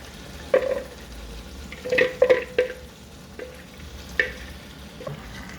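Chicken biryani gravy is being stirred in a pot over low heat, with a soft bubbling simmer underneath and several clustered metallic scrapes and taps of the spoon against the pot, close and fairly quiet.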